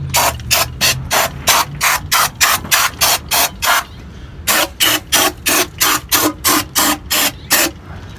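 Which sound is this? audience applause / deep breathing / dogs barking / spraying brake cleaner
spraying brake cleaner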